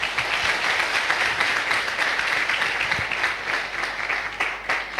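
Audience applause at a Safe Shop network marketing speech event in Agra, steady dense clapping from a crowd that fills the whole stretch at an even level, fairly close and loud.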